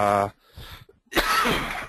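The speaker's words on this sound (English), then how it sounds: "I'm sorry for the constant coughing there" A single harsh cough bursts out at the start, then a short quiet gap and a rougher throaty cough or clearing sound follows, close and fairly loud.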